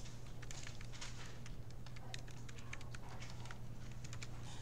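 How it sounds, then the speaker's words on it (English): Rapid clicking keystrokes on a computer keyboard during a programming lesson, light irregular taps running steadily over a constant low electrical hum, with no voices. "Oops, I can't type again."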